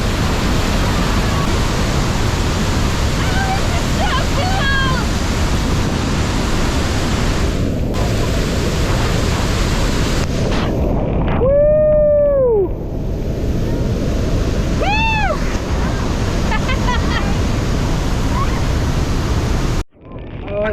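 Niagara Falls water thundering past a stairway in a continuous broad roar, loud and close, with a few sweeping whistle-like tones and bird-like chirps over it and a sudden cutoff right at the end.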